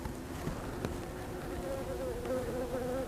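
Honeybees buzz steadily around a beehive weakened by varroa mites and hunger, a faint continuous hum with a few bees passing closer.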